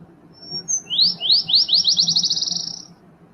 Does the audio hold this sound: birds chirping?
yes